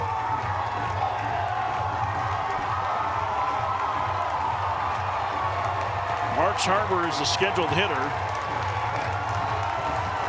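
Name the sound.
baseball stadium crowd cheering and clapping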